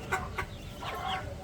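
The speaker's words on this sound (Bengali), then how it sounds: "আমাদের নিজস্ব ফার্মে আমরা দেশি মুরগি" Native deshi chickens on a poultry farm give a few short, close clucks in quick succession over low background noise.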